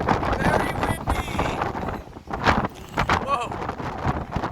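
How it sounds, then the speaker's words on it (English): Strong gusty wind buffets and roars over the microphone at Virginia Beach with big waves, loud and uneven, with people talking over it. "Very windy!"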